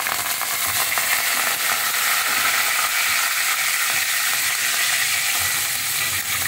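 Curry leaves spitting and crackling in hot oil in a pan while tiffin is cooked: a loud, steady, bright sizzle that holds without a break, with no voices over it.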